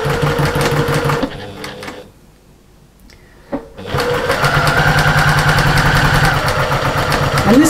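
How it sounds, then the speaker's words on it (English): Sewing machine stitching down the sides of fabric pieces placed right sides together with a quarter-inch seam allowance for a lining. A loud, close, rapid mechanical whirr runs, stops for about two seconds with a brief clunk, then resumes steadily to the end. "we're just going to stitch down the sides"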